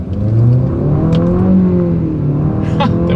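A 2025 Infiniti QX60 accelerates from first gear on paddle shifters, its engine droning loudly from inside the cabin, with the pitch rising and easing as it pulls.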